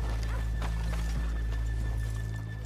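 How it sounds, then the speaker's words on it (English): Horses' hooves clip-clop at a walk in Red Dead Redemption 2, heard as a few soft, irregular thuds over a steady low rumble and a constant background hum. "let's leave the horses here off the main drive"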